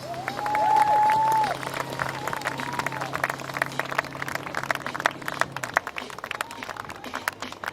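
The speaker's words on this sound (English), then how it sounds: "Please, a big round of applause." Sustained audience applause at a live stage show, dense clapping that swells early with whoops and a tonal shout, then carries on steadily at a lower level under a low hum until the end.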